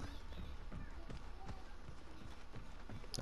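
Quick footsteps in the Apex Legends shooter, a soft irregular run of thuds and clicks under faint game ambience, fairly quiet and steady throughout.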